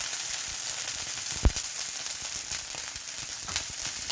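Garlic sizzling and frying in a pan for shrimp scampi just as white wine goes in, a steady close hiss throughout with one brief sharp pop partway through.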